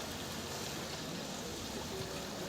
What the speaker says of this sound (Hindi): नर्मदापुरम की तस्वीरें पूरी तरह से लबालब नदी उफान पर खतरे के निशान से ऊपर बह रही है।